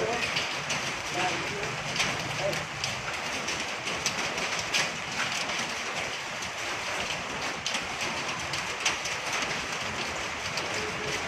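Heavy rain pours steadily during the January 2020 Taal volcano eruption, a dense, loud, unbroken hiss with scattered patters and faint voices underneath.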